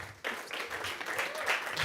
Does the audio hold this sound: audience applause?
yes